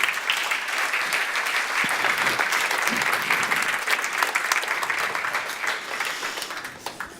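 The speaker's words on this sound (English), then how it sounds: "give them a big round of applause, Soraya and Sunny" An audience at a feminism book talk with Soraya Chemaly and Sunny Bergman gives a big, steady round of applause as the guests come to the stage, dense and sustained for several seconds before tapering slightly at the end.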